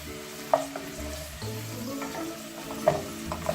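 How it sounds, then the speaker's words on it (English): Onions frying lightly in a pan for a chicken and pepper curry, a soft steady sizzle with a few sharp clinks of a utensil stirring against the pan. "fry these till you see a slight change in colour"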